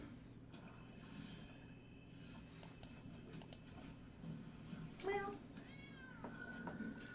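Short cat-like meow of the Twilight Panther spirit creature in the card game MTG Arena, rising and falling, heard faintly over quiet game ambience with light clicking.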